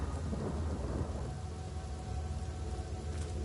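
Thunder and steady rain summoned by a spell in the video game Divinity: Original Sin, a dense continuous downpour with deep rumbling throughout, loud and unbroken with no voices.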